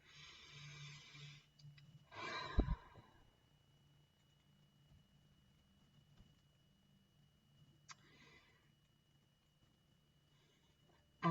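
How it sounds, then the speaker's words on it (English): A single big, deep breath drawn in and let out slowly, soft and close, with quiet room tone and a faint hum before and after. "Big old breath."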